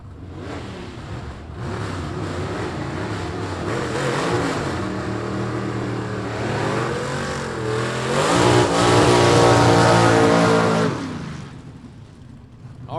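Super Stock drag race between a 1966 Mustang Coupe and a Ford Falcon: loud engines revving and accelerating close by, pitch climbing through several gear changes over about eleven seconds before backing off, no talk.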